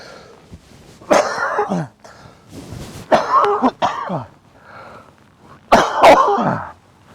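Three bursts of harsh, rough coughing with pauses between them, loud and close.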